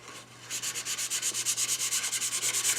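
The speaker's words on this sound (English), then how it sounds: "I sand better if I sand fast" Hand sanding a cherry wood tray, brisk back-and-forth rasping strokes in a steady, fast rhythm, close and fairly loud, starting after a brief quiet moment.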